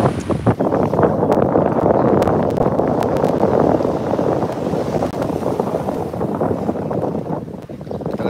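Strong outdoor wind at a lakeside tourist spot near Bulusan Lake roars steadily across the microphone, a loud, continuous rushing buffet that fills the whole stretch with no speech heard.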